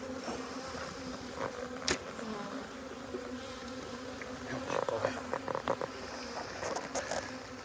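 Honeybees buzz around the hive entrance as foragers come in loaded with bright yellow pollen, a steady close hum with individual bees flying past near the listener.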